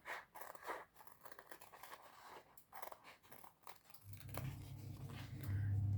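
Scissors snip through black eco-leather to cut out bow shapes from a template, a run of close, crisp cuts and crunches with a louder rough scraping toward the end.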